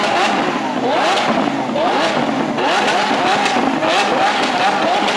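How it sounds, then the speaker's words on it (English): Lamborghini V12 engines rev loudly in a London street, with repeated rising and falling revs from several cars. A voice speaks briefly. "these cars are making some serious noise"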